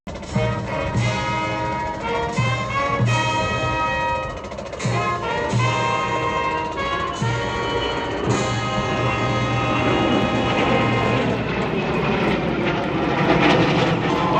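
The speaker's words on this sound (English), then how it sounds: "there you have the KC-135R Stratotanker getting ready to pass gas to that F-35 Lightning II" A KC-135R Stratotanker and an F-35 Lightning II passing at the Columbus air show give a loud, sustained engine roar with a steady rumble. Tonal strands rise and fall across the pass, and no voices are audible.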